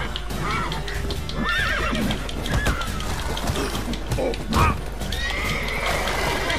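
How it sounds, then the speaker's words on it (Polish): A horse neighs loudly in The Witcher 3: Wild Hunt on PS4, with a long whinny over clip-clopping hooves and game combat sounds, plus a second whinny near the end. "Koń mnie tarasuje."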